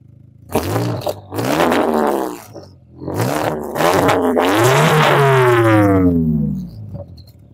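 Exhaust of an Audi TT 8N with a big turbo, recorded close behind the tailpipe, revving in several loud bursts that climb and fall in pitch, with a longer rising rev near the end.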